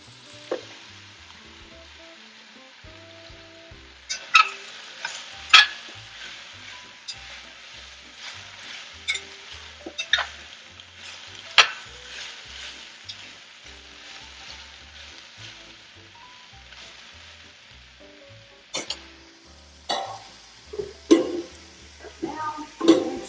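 Cremini mushrooms sauté in a pan, giving a quiet sizzle broken by sharp scraping and clattering stirs that come in bursts, close and without talk.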